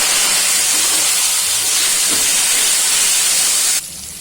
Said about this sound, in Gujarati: હવે આપણે ગુંદા છે તે નાખી દઈશું.